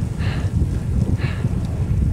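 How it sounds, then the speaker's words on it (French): Strong wind roars across an exposed high-altitude camp on Gasherbrum II at about 7000 m, a steady low rumbling buffet with two brief hissing gusts, loud and continuous with no talk. "Par contre pas du tout abrité du vent."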